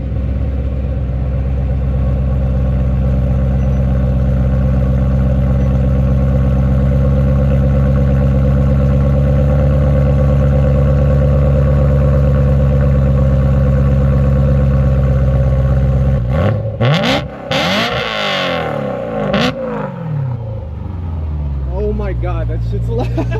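A 2011 BMW M3 (E92) engine drones loudly and steadily through its exhaust for a long stretch, then revs up and down in sharp surges near the end, with roaring rises and falls.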